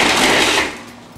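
A kitchen blender grinds dates in a short loud burst, a harsh whirring roar that cuts off and trails away within about a second.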